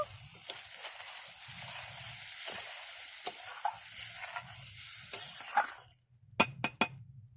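Water poured into sizzling, oil-separated fried spice masala for a spicy egg curry, giving a steady hiss and crackle with stirring scrapes; near the end the pan briefly goes quiet before a few sharp clinks.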